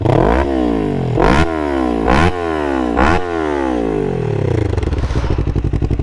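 A 2024 Kawasaki Ninja 500 motorcycle with an aftermarket Graves exhaust revs hard four times in quick succession, each rise dropping back, then settles into a loud, throaty idle close by.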